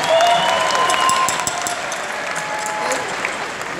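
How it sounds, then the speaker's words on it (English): A crowd at an Enagic convention in Las Vegas applauds the Enagic Golf Academy players, a short burst of many hands clapping that starts loud and eases slightly, with a few faint voices mixed in. "Let's get a round of applause for the golf players."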